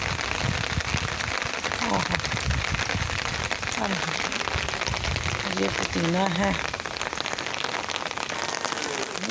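Steady rain patters on garden plants and flowers, including mint, as a continuous close wash of drops with a few sharper hits, while a person talks over it.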